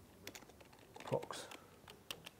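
Typing on a computer keyboard, a short burst of light key clicks at close range, with a voice talking softly over them.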